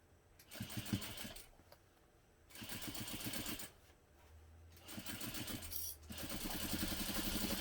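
A home sewing machine stitches a seam on a garment in short bursts, its rapid needle chatter stopping and starting with pauses between runs, close and clear with no talking.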